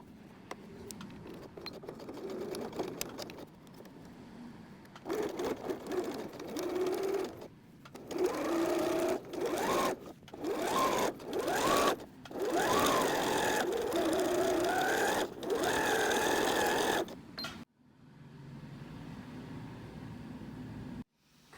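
A sewing machine stitches a tea towel apron in loud bursts of rapid mechanical whirring, separated by short pauses, then quiet toward the end.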